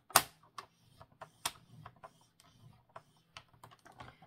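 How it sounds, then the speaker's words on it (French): A paper card being creased into folds for a pop-up card, making a run of small dry taps and clicks, close and quiet, with no talk. "on va venir faire les plis sur les 9 cm"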